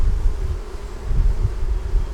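Honey bees buzz steadily around a hive frame, a constant close drone with faint wind and handling rustle underneath.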